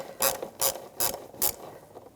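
A ratchet clicks in four quick bursts while loosening bolts on the engine cover of a 2008-2013 BMW 328i xDrive, each burst a close, sharp run of clicks separated by brief pauses.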